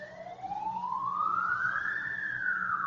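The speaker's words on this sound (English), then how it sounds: "That sounds like ambulance." An ambulance siren wails slowly upward in pitch, fairly distant and steady, outdoors in the rain, over a low background rumble.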